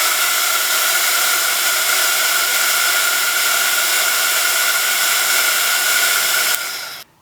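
A heat tool blows a steady, loud, hair-dryer-like whoosh while heat setting embossing powder on a Christmas bauble card, holding constant for several seconds before cutting off abruptly.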